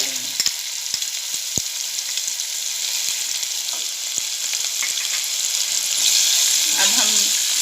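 Garlic, ginger, green chillies and spices sizzle steadily in a little oil over low heat for sweet corn upma, with a constant close crackle and occasional stirring scrapes.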